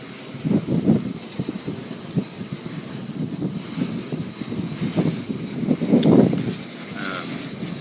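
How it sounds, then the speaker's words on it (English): Strong wind roars across an exposed mountain summit where large wind turbines stand, a steady loud rush with gusting swells and low buffeting, no voices. "there are some really big windmills just all over this summit"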